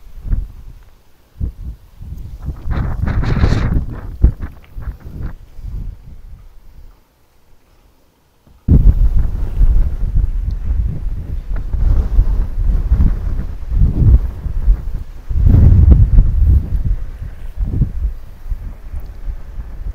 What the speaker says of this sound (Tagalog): Grabe, napakalakas ng hangin, guys.